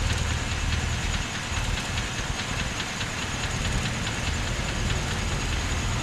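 A Mitsubishi E-Car engine idles in a Khon Kaen repair shop while its carburetor is adjusted, a loud, continuous mechanical drone with a fine rhythmic pulsing and no voices.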